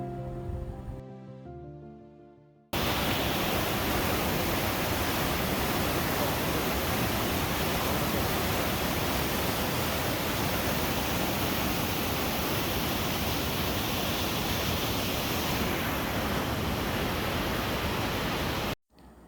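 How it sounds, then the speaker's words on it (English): Heavy rain pours in Kerala as a dense, unbroken hiss that starts abruptly after a short musical intro and continues loud and steady before ending suddenly. "Day after day, heavy rain gripped different parts of Kerala with ferocity."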